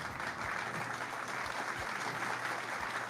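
Steady applause from a small live-show audience, a dense even patter of clapping that holds at one level for about three seconds, with no talk over it.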